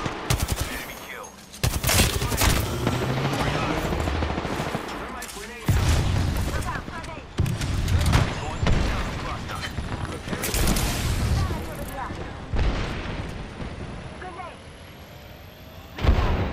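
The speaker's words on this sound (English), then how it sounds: "I am taking fire, friends." Rapid bursts of automatic gunfire and explosive shots in a squad-based shooter video game, loud and close, coming in repeated volleys with brief pauses and a rising whine near the end.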